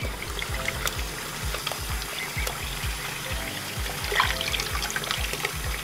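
Water is poured over a young emu during a bath, a steady trickling and splashing stream with soft low thumps repeating underneath and no talking.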